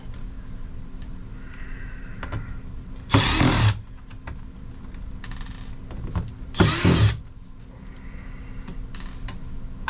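A power driver backs screws out of electronics being scrapped for parts, two short loud whirring bursts against a low background hum.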